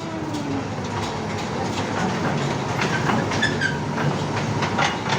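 A children's ride train at a fun city kids' park rolls along its rails with a steady rumbling drone and light clickety-clack, continuous and moderately loud throughout, with no talking.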